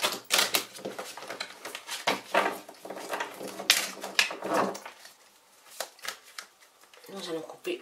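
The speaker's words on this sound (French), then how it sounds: "Nous allons maintenant tirer les cartes" Divination cards are shuffled and riffled in a series of crisp, papery bursts and flutters, close up, while a voice speaks over part of it.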